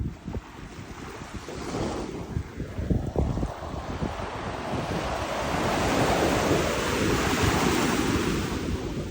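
Ocean waves crash on the shoreline at North Shore Kaanapali Beach, loud and close: a turbulent surge breaks early, then a long swelling wash of surf builds and fades, with gusty wind buffeting the microphone throughout.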